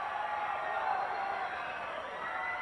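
Crowd noise at a women's lucha-style wrestling match in Mexico fills the arena, a steady loud roar of cheering with no pauses, running right after a submission finish.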